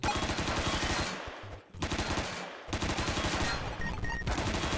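Rapid automatic gunfire in a video game, loud, dense bursts just after a reload, broken by two brief pauses before the firing resumes.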